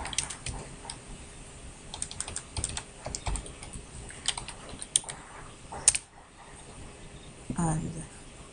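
Irregular clicks of a computer keyboard being typed on near the microphone while a router is set up, short bursts of keystrokes with gaps, a louder clack midway and a brief voice toward the end.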